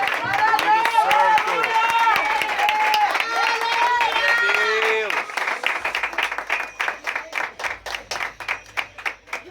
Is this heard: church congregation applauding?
yes